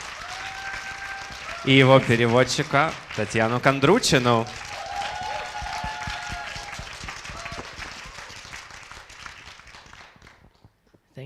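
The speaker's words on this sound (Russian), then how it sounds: "Поприветствуем его горячими аплодисментами." Someone speaks briefly, then a crowd breaks into sustained applause that gradually fades over several seconds.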